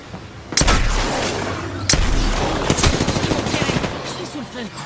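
Loud gunfire in the video game Apex Legends: heavy blasts near the start and at about 2 seconds, followed by rapid automatic bursts, all close and punchy, with voices talking over the shooting.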